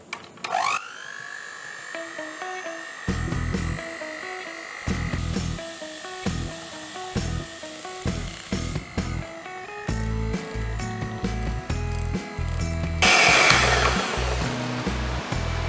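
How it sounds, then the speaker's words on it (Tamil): An electric blender whips chocolate and fresh cream for an eggless truffle cake, its motor whine starting, pulsing through changing speeds and growing louder and rougher near the end, close and loud with no talking. "பிளெண்டர் வச்சு இந்த க்ரீமை நான் பிளெண்ட் பண்ணிக்கிறேன்."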